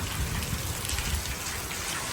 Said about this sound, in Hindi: बारिश देखें कितनी ज़्यादा तेज़ हो चुकी है